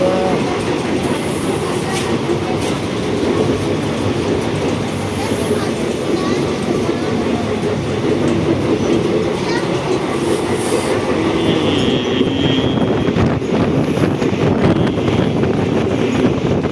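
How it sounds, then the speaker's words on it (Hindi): A Jabalpur–Rewa passenger train runs at full speed, its steady rumbling roar and clattering wheels filling the whole span loudly and continuously with a faint voice underneath. "तो ट्रेन भी अपने कहे मुताबिक अपनी पूरी स्पीड से और पूरी जान लगा के चल रही थी"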